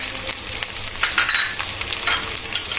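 Turmeric, cumin and coriander powders fry with salt in hot oil for dal chorchori, producing a loud, dense hiss-like sizzle with brief stirring scrapes, close up and with no speech.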